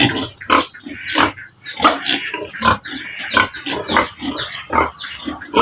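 Pigs being fed grunt and snort repeatedly in a steady, busy stream, close and fairly loud, with no talking.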